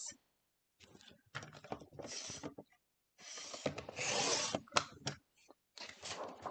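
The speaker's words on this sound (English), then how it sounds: "So I'll just cut a strip of this at 4 inches." Orange scrapbook paper cut into a four-inch strip, close bursts of rasping, sliding cutter strokes separated by short silences, with a sharp click in the middle.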